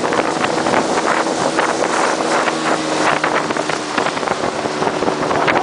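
Strong wind buffets the microphone over the steady roar of a fast-moving motorboat, loud and continuous throughout.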